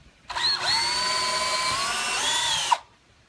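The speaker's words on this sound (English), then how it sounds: "we're going to drill a pilot hole" A power drill bores a pilot hole into a cedar board for a garden box, giving one continuous whining run of about two seconds that rises sharply as it finishes.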